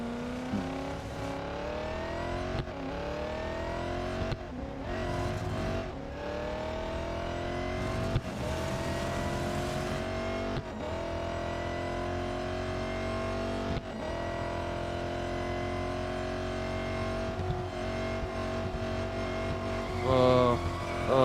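Race car in the video game Real Racing 3, its engine repeatedly revving up through gears with shifts every couple of seconds, loud and continuous, with brief tire noise near the end.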